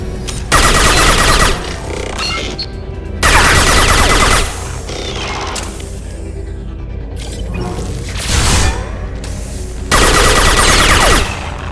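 Hacked turret fire in the video game Mass Effect 2 comes in loud, dense mechanical bursts, four rapid volleys separated by short gaps of lower clattering machinery, with no voices.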